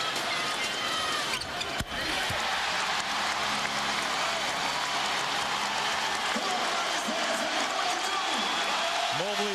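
An arena crowd cheers at a 2004 NBA playoff game, Lakers versus Rockets. A loud, sustained roar fills the room while a commentator talks over it and a ball bounces faintly.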